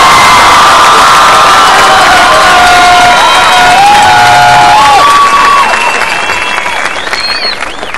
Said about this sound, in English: How about a big round of applause for our graduates?